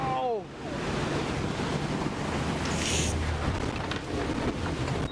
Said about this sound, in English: a piece of the glacier actually broke off and fell into the water